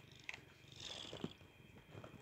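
Cat purring in Minecraft, a faint soft purr with small clicks and a brief high tone, heard alone without talk.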